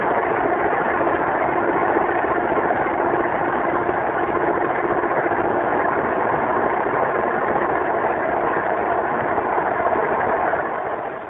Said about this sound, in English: As the plane picks up speed, you should bring the nose down to about this attitude.